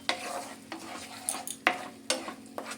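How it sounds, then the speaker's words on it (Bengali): Egg korma masala paste stirred in a pot with a metal spoon: repeated scraping strokes against the pot over a faint sizzle, close and steady, no voices. "খুব ভালো করে নেড়ে চেড়ে এটা আমি ফুটিয়ে নেব।"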